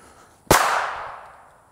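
A single sharp revolver shot fired from inside a pocket, one loud close crack with a short ringing decay, no voices.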